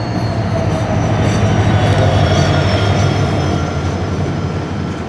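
Dhaka Mail passenger train running steadily on rails between Chattogram and Dhaka, a loud continuous rumble and wheel roar with faint squeal, close and unbroken throughout.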